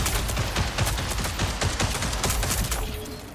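Rapid pistol shots in a video game, a dense string of sharp cracks firing close and loud for about three seconds, trailing off at the very end.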